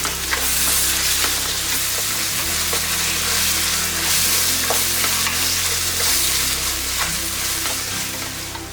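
Sliced onion frying in hot oil as ginger garlic paste is stirred in for mutton dum biryani: constant loud sizzle with scattered scraping stirs and ticks throughout, alongside a steady low hum.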